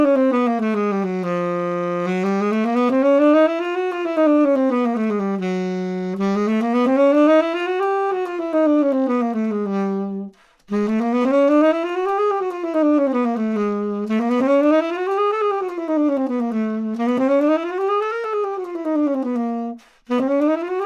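A saxophone runs quick chromatic scales up and down in smooth, repeated waves, loud and close with a bright reedy tone, broken by two brief pauses for breath and no talking.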